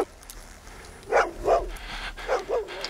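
A dog gives a few short, sharp barks and yips in quick succession, moderately close, over a quiet, low background.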